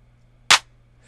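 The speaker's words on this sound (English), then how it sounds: "Just a short 808 clap, very tight sounding." One short, tight 808 clap from a trap drum kit, a single dry, snappy burst that decays within a tenth of a second over near silence.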